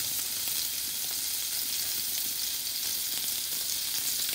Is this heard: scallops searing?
yes